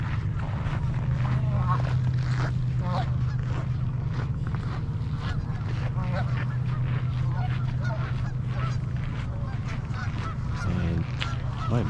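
Geese honk repeatedly on a frigid river in winter, calls rising over a constant low rumble of water or traffic, with a person talking at times.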